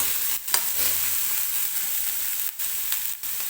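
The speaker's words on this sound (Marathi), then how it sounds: "तर हलकासा मऊ होईपर्यंत आपल्याला हा कांदा भाजून घ्यायचा आहे बरं का तेलामध्ये." Chopped onion frying in hot oil, a loud steady crackling sizzle close by, broken by a few brief stirring dips, with no talking.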